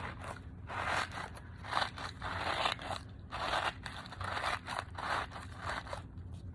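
Scissors snip through a knotted balloon being trimmed for a homemade stress ball, a quick series of close, crisp cuts and crunches in an irregular rhythm, with no talking.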